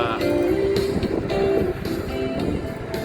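Strong wind roars steadily across the microphone during a night bicycle ride, a broad continuous rush with gusty swells, alone without talk.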